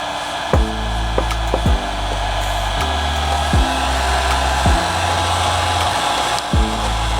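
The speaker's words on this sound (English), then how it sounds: "The heat gun is going to help it shape to the fender cut better." A heat gun warms clear bra film on a Civic fender, blowing a steady loud airy roar while sharp, repeated clicks and knocks break in roughly every second.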